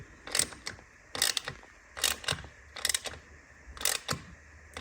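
Screws being tightened evenly on a carbon heat shield of an Akrapovic titanium high-rise exhaust on a BMW R NineT Racer, heard as short repeated mechanical ratcheting clicks in a steady rhythm, close and fairly quiet, with no talking.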